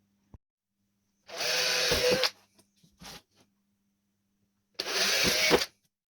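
A power drill boring small 2.5 mm holes into a boat's stern transom, with two loud, close whirring bursts of about a second each, separated by a short quiet gap and a few small clicks.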